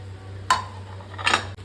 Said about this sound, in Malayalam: ചിക്കൻ പീസുകൾ നമുക്ക് അതിലേക്ക് ഇട്ട് കൊടുക്കാം. നമുക്കതൊന്ന് മിക്സ് ആക്കി ഇടുക